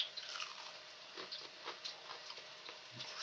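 Crunchy fried food being bitten and chewed close up, a steady series of soft crunches and crackles over about three seconds, quiet and without talk.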